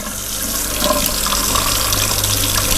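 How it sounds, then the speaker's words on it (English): Hot water runs steadily from a tap, a close, continuous rushing splash with no pauses and no voices over it. "get the hot water going"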